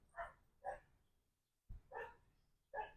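Dogs barking while running outdoors near a fire pit at night, several sharp separate barks in loose pairs with short quiet gaps between them, moderately close.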